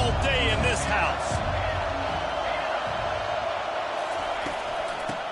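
Home stadium crowd at an American football game, a loud steady roar from a packed house swelling at the start with faint whoops, under and around a commentator's voice.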